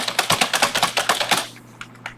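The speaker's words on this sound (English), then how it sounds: "I don't know why my keyboard is so loud" Rapid, loud clatter of fingers striking a heavy-sounding computer keyboard during a writing session, a dense burst of clicks lasting over a second before slowing to a couple of isolated taps.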